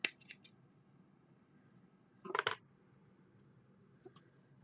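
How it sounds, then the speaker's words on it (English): Scissors snipping thread during hand quilting on a star blanket: a few sharp close snips at the start, a louder double cut midway, then a faint click, alone in a quiet room. "Just snip it."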